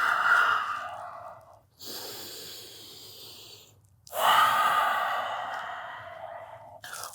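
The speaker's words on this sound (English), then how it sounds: "Nice full deep breaths." Deep, full breaths during a heated yoga practice: three long, close breaths, each a strong rush of air that slowly fades, with brief pauses between them and no talking.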